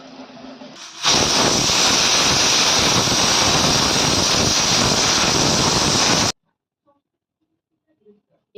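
A pressure cooker holding chicken soup for children lets out one loud, sustained hissing steam whistle that lasts about five seconds, then cuts off abruptly into near silence with a couple of faint knocks.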